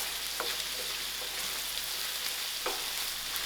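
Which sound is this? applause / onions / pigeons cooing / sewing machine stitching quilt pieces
onions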